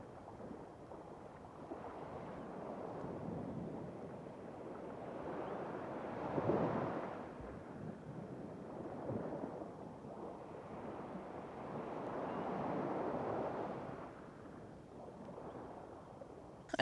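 Waves wash onto a beach in Western Australia under gusting wind, a soft, rolling roar rising and falling in slow surges, with wind buffeting the microphone.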